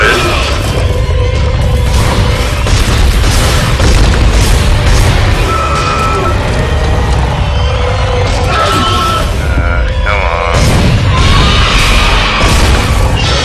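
Loud, continuous combat from Dead Space 2 on Zealot difficulty: dense booms, bursts and crashing impacts from gunfire and explosions fill the whole stretch, with brief screeches and game effects layered in and no talk over it.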